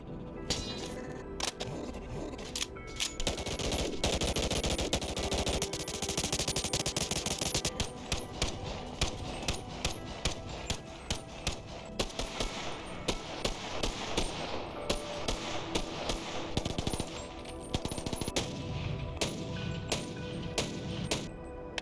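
Guns from a weapon pack in the VR game Bonelab fire in rapid, crisp bursts and single shots, loud and close, with rattling mechanical clicks between volleys and no voices.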